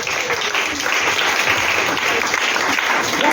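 A church congregation applauds with steady, dense clapping that fills the whole short stretch, loud and continuous, with a voice faintly under it.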